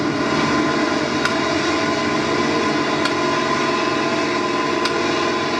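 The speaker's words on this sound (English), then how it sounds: "We board our choppers." Military helicopters lifting off in the Vietnam War: a steady, loud rotor and engine drone with faint periodic clicks, continuous and close, with no voices.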